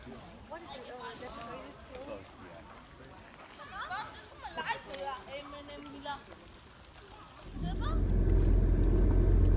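A Jeep on a rough dirt road out from Fern Canyon, with a brief voice at first, then a sudden loud, steady rumble of engine and tires jolting over the rutted surface that carries on to the end.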